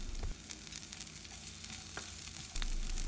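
Five crushed garlic cloves fry in half a spoon of oil for an idli podi, giving a steady, close sizzle with occasional small crackles and pops, and no voices.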